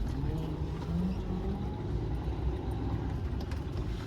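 A low, rumbling truck engine with an Eaton Fuller transmission holds at a steady moderate level in first gear, pulling away from a stop without any sharp revs.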